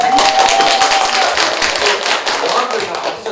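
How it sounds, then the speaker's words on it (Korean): Brisk clapping from a small group at a barista class completion at a community center in Korea, honoring the instructor, a dense patter of hands that fades slightly toward the end. "박수 한번."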